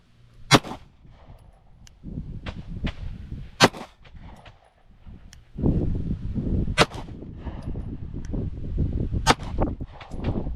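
An HK CC9 pistol fires at an outdoor range, sharp loud reports spaced a second or two apart with metallic ringing between them, alongside other shooters' shots at varying distances.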